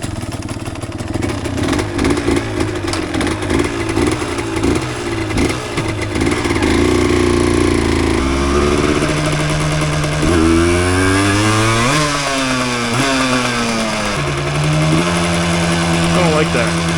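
A 1988 Yamaha DT200 two-stroke enduro motorcycle engine runs loud and close on a cold winter ride, its buzzing revs climbing and dropping in repeated swells under wind noise.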